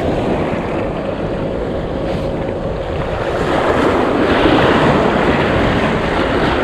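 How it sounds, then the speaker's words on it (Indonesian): Extreme ocean waves at sea during a fishing trip roar and wash continuously, with heavy wind buffeting the microphone, loud and close. "Tapi ini ombaknya ekstrim banget tuh."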